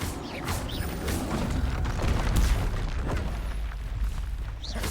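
Fiery Confringo spell blasts in Hogwarts Legacy, a dense run of booming bursts and crackling impacts layered over continuous rumbling battle noise, loud and close throughout.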